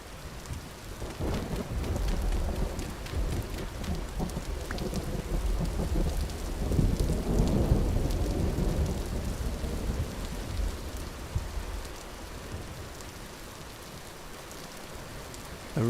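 Rain and thunder in the video game Vintage Story: steady heavy rainfall with a long, deep rumble of thunder swelling in the middle and fading, continuous and fairly loud, without talk.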